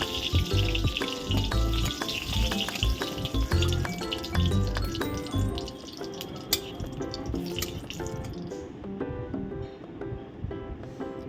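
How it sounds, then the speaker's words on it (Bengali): Dry red chillies fry in hot mustard oil in a wok, giving a continuous close crackling sizzle with scattered sharp pops throughout, no talking. "সর্ষের তেলটা গরম হলে শুকনো লঙ্কাগুলো ভেজে তুলে নেব"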